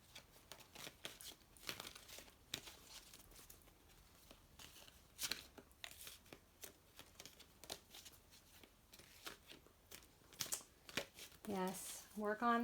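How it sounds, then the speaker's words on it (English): Soft, irregular papery riffling of tarot cards being shuffled, steady and close, with a voice speaking over it and a brief louder flutter near the end. "so I'm going to go ahead and keep shuffling a little bit here."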